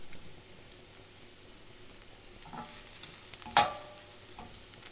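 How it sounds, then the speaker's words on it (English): Asparagus sautéing in a pan, a soft steady sizzle close by with light scraping and a few sharper clinks of stirring, fairly quiet overall and with no talk. "We're just going to saute our asparagus until we get a nice char on it."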